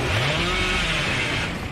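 Bubba's chainsaw roars in the video game Dead by Daylight, a loud, continuous rasping engine drone close by, with a pitch that rises briefly and then holds steady.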